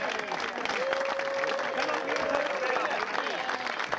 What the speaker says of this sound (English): Ladies and gentlemen, give Bina a big round of applause.